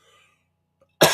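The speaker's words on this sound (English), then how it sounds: "Now I have this cough." A single sharp, loud cough bursts out after a second of near silence.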